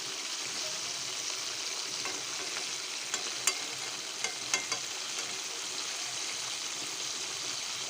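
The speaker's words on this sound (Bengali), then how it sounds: "12 থেকে 15 মিনিট পর্যন্ত ভালো করে ভাজবেন, কারণ এই চিকেনটা ভালো করে যে সিদ্ধ হয় সেটা" Chicken frying in hot oil, a continuous loud sizzle with a few sharp crackles and pops near the middle, close up and with no voices.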